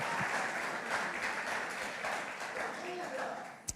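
A church congregation applauds together during a Pentecostal home service, a steady wash of clapping that carries on the whole time with voices mixed in.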